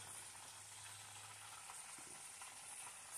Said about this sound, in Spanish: Friendo pescado.